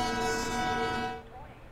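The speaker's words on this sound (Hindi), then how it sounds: "हॉर्न बजाते हुए यहाँ से डिपार्ट करेंगे" A train horn sounds on departure in the Open Rails train simulator game, a sustained multi-tone blast that fades out after about a second, heard alone.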